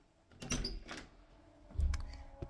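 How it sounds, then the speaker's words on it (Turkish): A door opens in the PK XD mobile game, giving two short bursts of clatter and rumble about a second apart, with no talking over it. "şimdi hemen şöyle kapıyı açayım"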